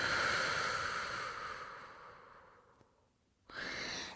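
A deep, breathy exhale during a Pilates stretch, starting strong and slowly fading to near silence over about three seconds, followed by a fresh, loud breath beginning near the end.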